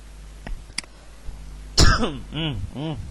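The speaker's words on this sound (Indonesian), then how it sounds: "Batuk nih ya." A single sharp cough, followed by a throat-clearing sound, close to the mic in an otherwise quiet room.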